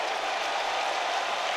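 A large basketball arena crowd in Charlotte applauds steadily as players check out of an NBA game, a dense, continuous wash of clapping and cheering with no voices standing out.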